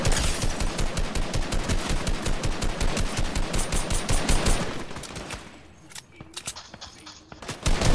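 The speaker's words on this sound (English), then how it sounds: "Oh, all those shots are hitting him." Rapid automatic gunfire from the Fortnite video game, a dense rattling stream of shots lasting several seconds before breaking off into a quieter stretch with a few scattered sounds and a final loud burst.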